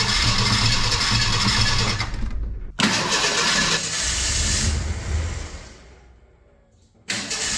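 After 20 years of sitting, the 3.0 engine of a Ford Aerostar cranks loudly and catches, with a brief break in the noise. It settles into a rough running sound that fades, then surges back up near the end.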